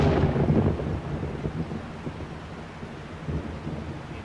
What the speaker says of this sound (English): It's raining and thundering.